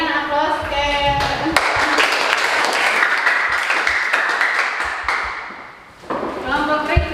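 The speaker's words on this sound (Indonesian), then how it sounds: "berikan aplaus ke" A classroom audience breaks into a burst of loud clapping for a presenting group, lasting a few seconds and then dying away, with a person talking before and after.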